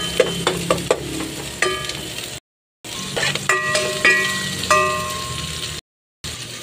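Korean and Indian onions fry and sizzle steadily in a pan for goat kaldereta, with repeated close scraping stir strokes and clinks of a utensil over the constant hiss, no voices.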